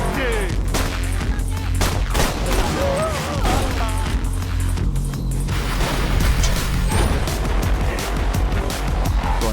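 Gunfire in Borderlands 2, dense rapid shots and impacts layered over continuous game noise and a low rumble, with a voice talking throughout.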